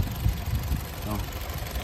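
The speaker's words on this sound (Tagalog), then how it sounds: "Tingnan mo kung gaano kapino yung makina." A Honda City automatic idling smoothly, a low, steady engine rumble close by with someone talking over it.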